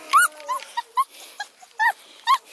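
Coonhound puppies let out a rapid run of high whimpers, yips and squeaky barks, close by, in short bursts with brief gaps between.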